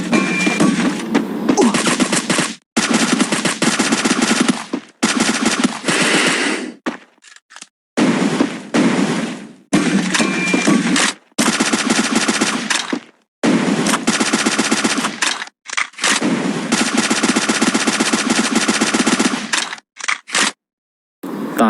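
Automatic gunfire from a shooting video game rattles out in long, loud bursts separated by short pauses, close and continuous across the stretch with no talking.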